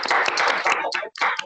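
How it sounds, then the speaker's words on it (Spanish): Audience clapping to welcome a speaker at an online academic talk, a short burst of close, loud hand claps with a brief gap before the clapping resumes. "recibámoslo con un fuerte aplauso"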